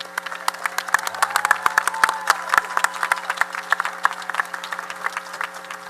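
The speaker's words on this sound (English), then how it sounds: "You clap for them again." Audience applause at a commencement ceremony for the graduating class of 2023, steady dense clapping from a large crowd filling the hall, with sharp individual claps standing out near the front.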